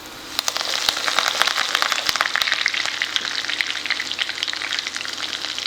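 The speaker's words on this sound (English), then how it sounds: "Once the urad dal turns golden brown and the mustard starts spluttering, we are going to add the curry leaves." Mustard seeds and urad dal splutter in hot clarified butter, a dense close crackle of rapid pops over a steady sizzle that keeps going throughout.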